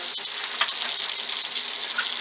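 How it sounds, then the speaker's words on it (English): Tap water gushes steadily into a water bottle, a loud, constant hiss and splash close by with no talking. "Once I get this bottle filled up, there we go."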